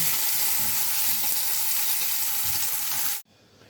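Burger patties frying in plenty of fat in a pan, a loud, steady close-up sizzle with faint stirring scrapes that cuts off abruptly near the end, leaving near silence.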